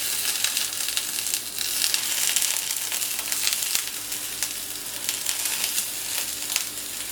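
Small pre-cooked potatoes fry in fat with a steady, close sizzle and crackle that runs continuously at an even level, with no voices.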